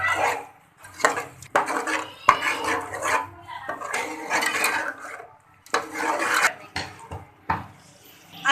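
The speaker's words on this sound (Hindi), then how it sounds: "केचप डाल देंगे और अच्छे से मिक्स कर देंगे ये सब चीज़ें।" A utensil stirs ketchup into masala pasta in a pan, making repeated scraping and clinking bursts against the metal with short pauses between strokes. The sounds are close and moderately loud, with no talk.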